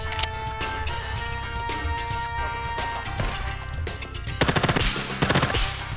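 Automatic gunfire in the survival video game SCUM rattles in quick bursts over a background of game music, with louder, sharper volleys near the end.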